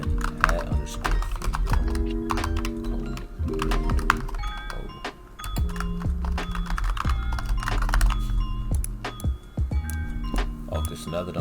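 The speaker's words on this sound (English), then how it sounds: "now that I'm done typing it in" Keyboard typing on a computer while working in 3D model-porting software, quick irregular key clicks running steadily throughout, close and fairly loud over a busy background of music-like tones.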